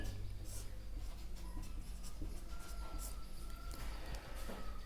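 A pen or chalk scratches out handwritten notes during a geography lesson on India's location and extent, a steady close scraping and rubbing that runs throughout over a dense background hiss.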